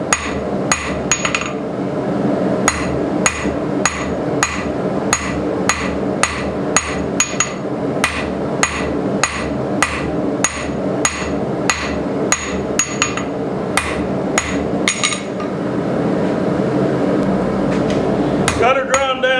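A hammer strikes a jackhammer bit being forged into a blacksmith punch, delivering loud, ringing blows at a steady, quick rhythm close to the anvil, with a brief grinding noise near the end.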